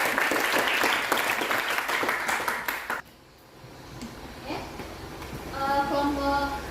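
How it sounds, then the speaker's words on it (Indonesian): Classroom applause, a dense burst of clapping from a group of students lasting about three seconds, then stopping, followed by quieter room sounds and a voice. "Ya, kasih tepuk tangan."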